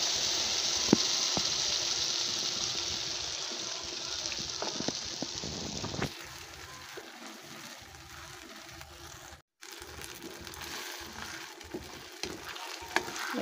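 Cheesy sweet spaghetti sauce bubbles and sizzles in a pan, a soft steady hiss with small pops and scraping stirs, fairly quiet.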